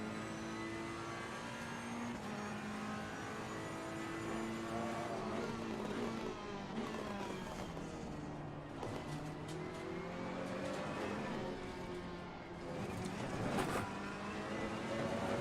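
Racing cars in Assetto Corsa Competizione with a Ferrari GT car nearby, a steady engine drone with shifting pitch as revs rise and fall through gears, moderately loud and continuous.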